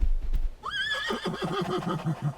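A horse neighs once, close and loud: a rising shrill whinny that breaks into a rapid, descending fluttering whinny lasting nearly two seconds, preceded by a few dull hoof thumps.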